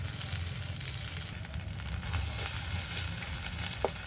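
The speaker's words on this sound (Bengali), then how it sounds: "আদা জিরেটা 1-2 মিনিট ভেজে নেব।" Ginger and cumin sizzle steadily in a hot pan, a continuous close frying hiss with a few faint scrapes and a small clink near the end.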